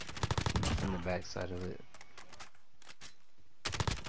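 An MW2 ACR assault rifle fires fast, sharp automatic bursts at the start and again near the end in Warzone on Rebirth Island, with scattered single shots in between. Players talk over the gunfire.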